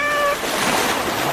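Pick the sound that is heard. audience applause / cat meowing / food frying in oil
cat meowing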